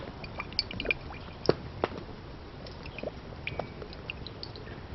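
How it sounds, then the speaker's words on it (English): Olive oil is poured into a frying pan over an outdoor fire pit, with faint scattered drips and soft pops over a steady low hiss. "just put a bit of olive oil in the pan."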